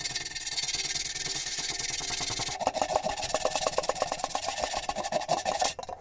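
Sandpaper rubbing back and forth around a hole in a damaged aluminum vessel, a close, steady rasping scrub that turns into quick rhythmic strokes partway through.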